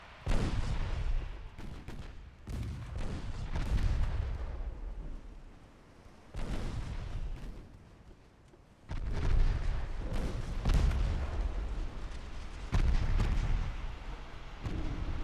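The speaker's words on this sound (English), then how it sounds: "We are getting so many torpedo hits from that destroyer attack." Torpedo hits and gunfire on ships during a destroyer attack in a naval warfare video game, a dense, continuous barrage of heavy booms and blasts with brief lulls, loud and rumbling throughout.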